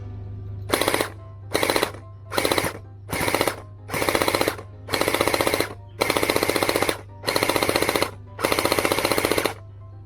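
A gel blaster fitted with a hop-up fires in nine rapid full-auto bursts, each a loud rattling string of shots separated by short pauses, over a steady low motor hum.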